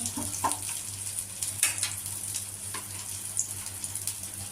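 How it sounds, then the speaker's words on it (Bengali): Dry red chillies and bay leaves fry in hot oil in a pan, giving a soft, steady sizzle close by, with faint crackles throughout. "আমি এর মধ্যে ফোড়ন দিয়ে দেবো শুকনো লঙ্কা দিয়ে দিলাম দুটো তেজপাতা দিয়ে দিলাম"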